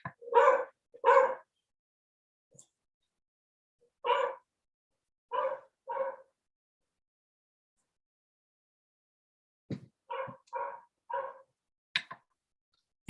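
A dog barks loudly nearby in several bursts, first a pair, then a single bark, then a pair, then a rapid string of four or five barks, with silent gaps between and a couple of faint clicks.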